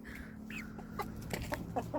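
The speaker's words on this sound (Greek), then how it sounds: "Να, εδώ είναι η καινούργια κότα." A newly acquired hen clucks in short, scattered bursts over a steady low hum, fairly close and moderately quiet, with no voices.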